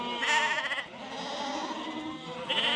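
Mule and Texel cross mule ewes bleat in overlapping, wavering calls, loud and close, one sustained chorus filling the whole stretch with a fresh bleat rising near the end.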